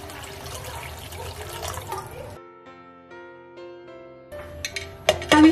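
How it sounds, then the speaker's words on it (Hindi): Water pours into rice for peas pulao in a rushing, splashing stream that breaks off for a musical interlude, then resumes with sloshing and a few knocks. "अब इसमें डाल देंगे मैं पानी।"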